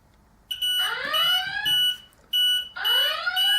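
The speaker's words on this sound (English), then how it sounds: "So you can see that the alarm comes up, and that's a dangerous alarm." A loud dangerous-voltage alarm from a Plumb Guard V3 voltage safety device, sounding in repeated bursts of sweeping, descending tones with steady beeps, close and insistent, with brief gaps between them.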